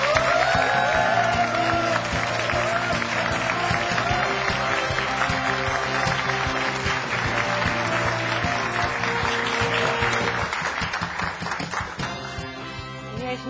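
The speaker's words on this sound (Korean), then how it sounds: "여러분, 배은주 한국 대표를 뜨거운 박수로 맞이해 주십시오." A lecture-hall audience gives sustained, dense applause to welcome the Alibaba.com Korea head as she takes the stage, loud and continuous throughout before tapering slightly at the end, with music playing underneath.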